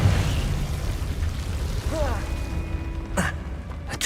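A Confringo fire spell detonates in the video game Hogwarts Legacy, a loud broadband explosive boom with rumbling low end, followed by a brief sharp burst near the end, while a voice is heard faintly in the mix.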